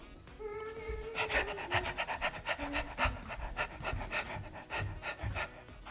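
A dog pants rapidly and rhythmically at close range, steady quick breaths over a soft whine at the start, with no talking.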